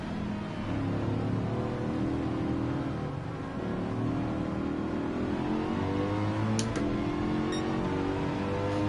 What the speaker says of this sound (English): Listen to that Suzuki.